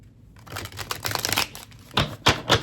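Deck of cards being shuffled close up, a busy run of quick papery flicks and riffles followed by several louder separate snaps toward the end, with no talking.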